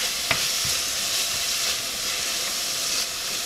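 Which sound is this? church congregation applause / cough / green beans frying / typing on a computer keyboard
green beans frying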